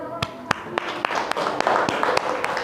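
Students in a classroom during a physics lesson clap a dozen or so sharp, spaced claps, loud and close, over a light murmur of voices.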